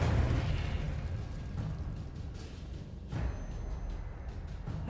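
A Confringo spell bursts in Hogwarts Legacy with a booming blast, followed by a rolling roar and a second surge a few seconds later, loud and alone with no talking.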